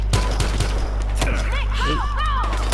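Loud, rapid bursts of automatic gunfire fill a firefight in the PS4 video game Battlefield Hardline. A player's excited voice is heard over the shots.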